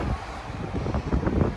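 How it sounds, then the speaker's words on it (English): Gusty wind buffets the microphone outdoors during an inspection of a 1998 Nissan Skyline R34 GT-T coupe, a steady close rumble with rising and falling gusts and no talk. "It's kind of windy."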